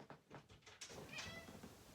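A house cat meows repeatedly at close range indoors, a series of short rising cries followed by a longer, louder meow.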